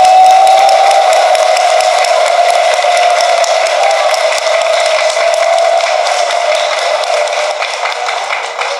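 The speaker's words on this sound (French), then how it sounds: "Ce que je vais vous dire, c'est de vous applaudir encore une fois." An audience at a union's founding congress applauds, a broad sustained wash of clapping with a steady tone running through it, loud and even from start to finish.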